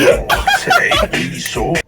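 A person coughs a few times in quick, rough bursts close to the mic, mixed with throaty vocal sounds.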